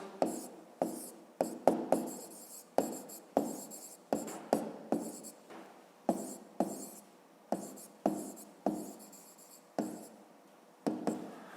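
Pen writing by hand on paper, with steady scratchy strokes close up, each word a short burst followed by a pause, repeating in a regular rhythm.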